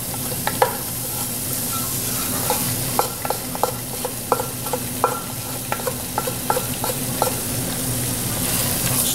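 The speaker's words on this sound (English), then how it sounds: "Stir that roux in." A hot roux with vegetables is worked around a pan for Swedish meatballs, a low steady hiss carrying sharp, regular scrapes and knocks of the utensil, close and fairly loud, with no one talking.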